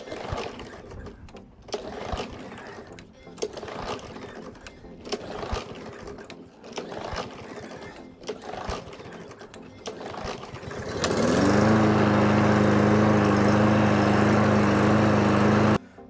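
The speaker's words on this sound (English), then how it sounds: "The lawnmower is now working and functional." A small gas lawn mower engine, filled with ethanol-free fuel, catches and settles into a loud, steady idle after about eleven seconds of rough shuffling and handling noise.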